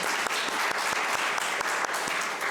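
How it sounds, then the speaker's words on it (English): A Sunday service congregation applauds twelve-year-old Sebastian, a dense, steady round of clapping with a few sharper individual claps standing out, heard alone. "So please give him an applause."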